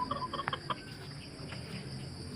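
Backyard pet chickens give a quick run of soft clucks while being fed in the province, a few close, quiet calls early on that then fade into low ambient noise.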